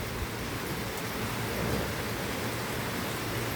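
Dense, steady roar of heavy rain pouring continuously, close and loud with no pauses.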